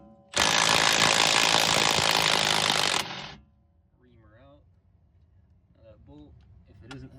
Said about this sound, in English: So get your trusty dusty impact.